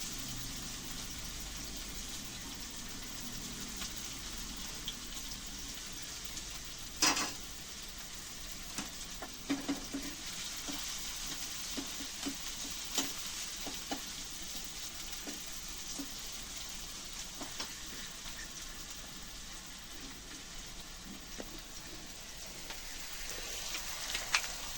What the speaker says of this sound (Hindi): प्याज डाल दिया मैंने फ्राई करके।